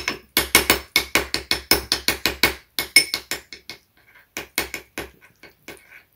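Three foods in jars being mixed together, with a utensil striking a container in rapid, sharp repeated knocks, a brief pause midway, then more sparse clacks, close and loud with no talking.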